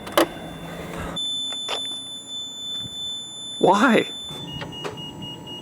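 A Lamborghini Murcielago LP640 parked in a parking lot emits steady electronic warning tones, a couple of sustained pitched beeps running under and between short bursts of nearby talking voices.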